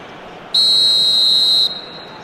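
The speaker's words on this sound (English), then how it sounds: "Whistle's gone, that's a foul." A referee's whistle blows once for a foul during a football match, a single sustained shrill blast of about a second over steady stadium crowd noise.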